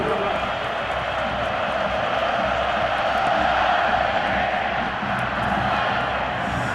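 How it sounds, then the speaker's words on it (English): Broad, steady roar of a large stadium crowd at the Rose Bowl football game between Oregon and Ohio State, a constant dense wash of voices with a commentator talking over it. "The crowd settling back in after the intermission and the bands."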